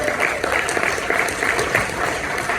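Congregation applauding during a French-language church service, a steady dense clapping wash that holds loud and even under a faint voice or music bed.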